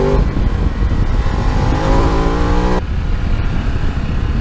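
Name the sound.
Ducati Desert X motorcycle engine revving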